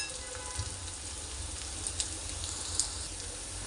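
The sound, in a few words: cumin seeds being sautéed in pan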